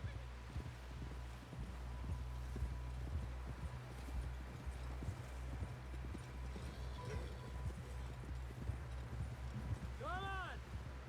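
Horse hooves clip-clop in a steady galloping rhythm through Red Dead Redemption 2, running beneath a low engine-like drone with a brief whinny near the end.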